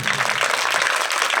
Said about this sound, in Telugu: టీచర్స్ అందరు చప్పట్లు కొట్టండి